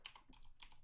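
Quick keystrokes on a computer keyboard, three or four close, light clicks in rapid succession with no talk.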